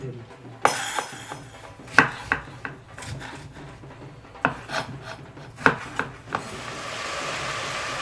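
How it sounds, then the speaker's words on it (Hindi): Onion being cut into coarse pieces for butter chicken, a series of sharp knife strikes on a board at irregular intervals, close and fairly loud, with scraping and rubbing between cuts and a steady hiss at the end. "ऐसे ही हमने प्याज को मोटा मोटा कर लेना।"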